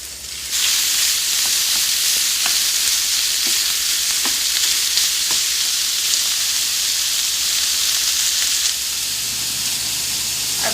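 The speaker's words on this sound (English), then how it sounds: "Our bacon is frying up nicely." Bacon frying in a small skillet gives a steady, loud sizzle with faint crackles and pops throughout, close up and without voices.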